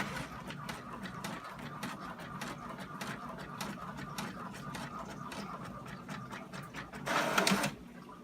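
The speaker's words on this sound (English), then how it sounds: "It printed." An inkjet-style printer runs steadily, printing a water slide decal sheet with repeated mechanical passes and a rhythmic whirring, rising to a louder burst near the end as the sheet feeds out; no talking.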